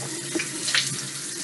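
Water runs from a bathroom tap for rinsing the mouth, a steady close splashing stream over about a second and a half, alone without talk.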